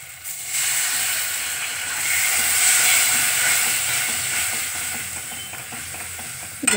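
Coconut milk poured into a pan of spiced prawn malai curry with garlic, ginger, garam masala and cumin, a steady close sizzle and bubbling hiss that swells then eases slightly, with a clatter at the end and no talking.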